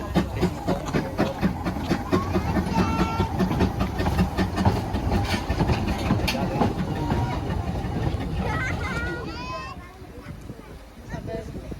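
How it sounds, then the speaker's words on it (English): A heritage railway train at Porthmadog rumbles past with rhythmic clattering and squealing wheels, loud and close, while people talk over it; the noise fades near the end. "it's an interesting train coming"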